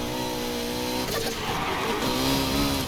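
A car in a racing video game slides under handbrake with a drawn-out tire squeal over a steady revving engine, close and continuous.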